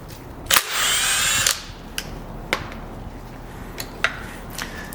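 A power driver whirs in one loud burst about a second long, followed by a few sharp scattered tool knocks, while bolts come out of the rear output shaft bearing retainer on a Dana 20 transfer case from a 1966-1977 Ford Bronco.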